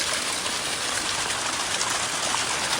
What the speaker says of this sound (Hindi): अचानक से कभी बीच में तेज हो जा रही है बारिश भी ना